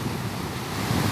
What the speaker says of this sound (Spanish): Miren, ahí vienen las olas.